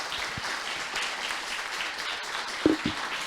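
Modest audience applause after a stand-up style tech talk on PHP 7.4, a soft continuous patter of claps with a couple of louder thumps near the end.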